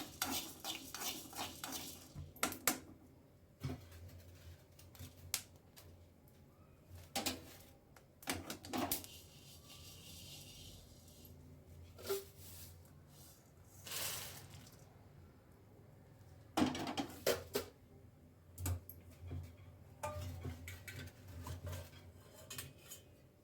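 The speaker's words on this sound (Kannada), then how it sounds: "ಈಗ ಹುರಿದಾಯಿತು ತಾಟಿಗೆ ತಗೋತೀನಿ ನೋಡ್ರಿ" Roasted ingredients for mango pickle are scraped from a pan onto a plate, faint intermittent metal clinks and scraping strokes spread out over a quiet room, with no talking.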